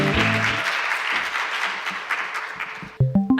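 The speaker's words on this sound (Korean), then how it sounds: "큰 박수로 맞이해 주시기 바랍니다." Audience applause welcomes a high school contestant at a Korean speech contest in Toronto, a steady broadband clatter of many hands lasting about three seconds, then fading as a voice begins speaking at the end.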